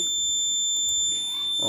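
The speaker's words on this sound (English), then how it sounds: "then the buzzer should be off." A buzzer on a coal mine smart helmet safety alert system sounds a steady, unbroken high-pitched electronic tone for the whole stretch, with no voices over it.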